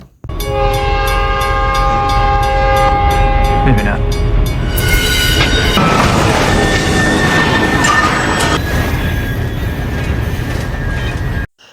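A loud train horn blares in long tones, then the heavy roar and rattle of a train rushing past close by.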